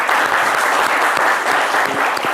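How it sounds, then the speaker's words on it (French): A television studio audience applauds steadily and loudly for a guest on a French talk show, a dense continuous wash of clapping with no break. "On peut l'applaudir très fort."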